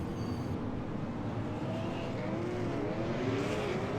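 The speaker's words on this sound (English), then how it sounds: "the pace car makes its way around the back stretch" A pace car circling a short oval at a super late model race. Its engine gives a continuous, fairly loud hum with faint shifting tones throughout, and no one speaks.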